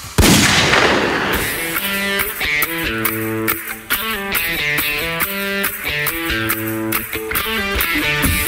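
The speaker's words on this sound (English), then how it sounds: "You just hear the gunshot." A single loud gunshot sound effect blasts at the start and decays quickly, then music with a steady beat takes over.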